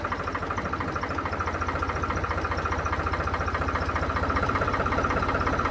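A 3630 tractor engine idles close by with a steady, rhythmic diesel chugging and knocking throughout, no voices.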